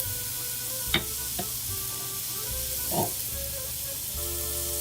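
Onions for beef bourguignon sizzle steadily in a hot pan, a continuous frying hiss with a few brief clinks and stirring scrapes near the start and middle.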